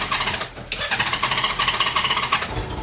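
A cold car engine cranks roughly after sitting overnight, with a loud, rhythmic, pulsing churn that sputters unevenly without settling into a smooth idle.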